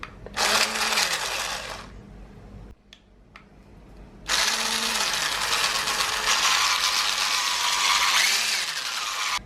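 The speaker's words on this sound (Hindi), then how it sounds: "ये देखिए मक्खन मैंने बीट कर लिया।" An electric grinder beats 100 grams of butter for a chocolate cake batter, whirring loudly in a short burst, stopping briefly with a couple of knocks, then running again in a long steady spin.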